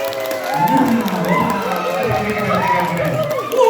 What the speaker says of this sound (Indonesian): silakan bertepuk tangan sebahagia mungkin